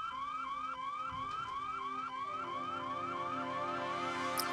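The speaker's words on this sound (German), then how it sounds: "die Alarmglocken läuten." Alarm bells ring in the video game Hitman: Blood Money, a loud, continuous electronic alarm pulsing in a steady rapid repeating rise, filling the whole stretch without talk.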